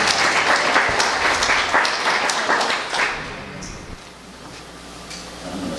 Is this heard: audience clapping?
yes